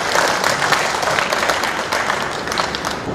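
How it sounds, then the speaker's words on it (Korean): An audience applauds at a farm machinery handover ceremony held by a Korean agricultural cooperative in Icheon, with dense, even clapping sustained at a steady loud level throughout. "네, 큰 박수 한번 부탁드립니다."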